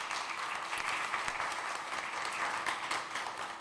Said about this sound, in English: A round of applause to the entire panel.